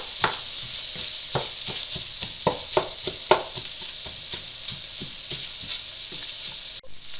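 Onions and garlic fry in rendered bacon fat in a pot for chili, a steady close sizzle broken by repeated sharp scraping stirs throughout, no voices.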